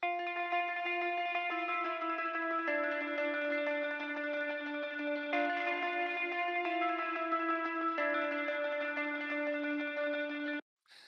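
Omnisphere guitar preset played from a keyboard, a sustained chordal hook washed in wide reverb and delay, steady and loud for about ten seconds with a change of chord every few seconds, then an abrupt stop.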